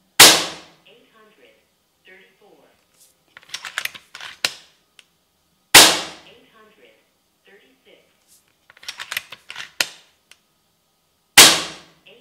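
FX Crown air rifle shots into a pellet trap: three sharp, loud cracks spaced about six seconds apart, each followed by a quick decay and some clicking, rattling handling noise between shots.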